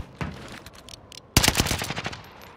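Gunfire in a battle royale video game: a single shot, then a sudden loud burst of rapid automatic fire that continues in quick repeated volleys.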